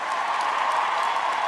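A crowd applauds steadily at a televised show's season opening, a continuous even wash of clapping heard from some distance without a break.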